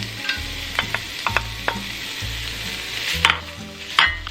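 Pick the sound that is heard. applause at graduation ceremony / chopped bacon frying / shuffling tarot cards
chopped bacon frying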